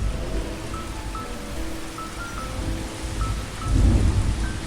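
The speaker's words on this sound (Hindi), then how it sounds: "उस समय अचानक बारिश आ गई।" Sudden heavy rain pours steadily with a deep rumble of thunder swelling near the end, a dense continuous wash of drops on surfaces.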